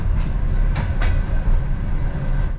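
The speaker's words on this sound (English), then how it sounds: "we are arriving at our destination, and the final stop of this train" A sleeper train from Kazakhstan to Kyrgyzstan pulls into Bishkek 2, its final stop, with steady low rumbling of the cars and a few short wheel clacks, close and continuous.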